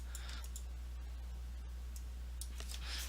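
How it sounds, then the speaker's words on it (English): Typing on a computer keyboard, soft scattered clicking keystrokes in short clusters with pauses between them, quiet and close against a low background hum. "Bad typing because I had my fingers in the wrong location."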